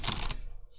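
A short burst of a few quick keystrokes on a computer keyboard, typed while testing the layout during a Linux operating system installation, close and crisp, with no voices.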